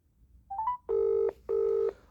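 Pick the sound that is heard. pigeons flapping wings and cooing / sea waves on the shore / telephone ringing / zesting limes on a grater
telephone ringing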